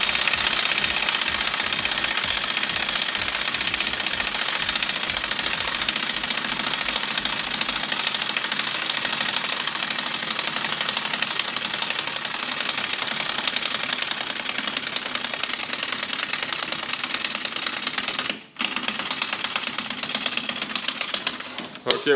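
A pneumatic impact wrench hammers at Chevrolet Cruze front strut bolts, a loud continuous rattling burst that fills most of the clip, ending as the air supply runs out.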